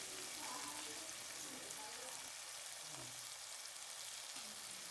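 Masala spices fry in a pan with turmeric, coriander-cumin, pepper powder and salt, giving a continuous soft sizzle and crackle, with faint stirring or scraping sounds underneath.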